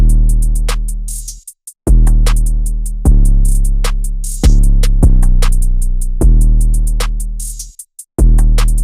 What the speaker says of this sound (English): The drums alone together sound like this.